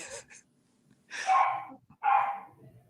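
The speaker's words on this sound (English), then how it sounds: "your dog is pissed about something" A dog barking from somewhere inside a house, a couple of floors away: two sharp, fairly loud bursts after a short quieter yelp, with no talk over them.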